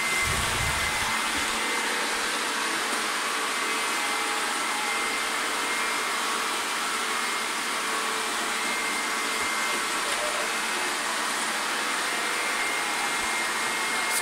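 A Scooba robot floor cleaner runs with a continuous, fairly loud whirring motor hiss that holds steady throughout, with no talk over it.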